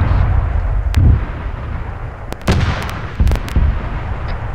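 Air strike followed by a strafing gun run in the military game ArmA, heavy booming blasts over a constant low rumble, with sharp short bursts of fire in the second half, loud and close.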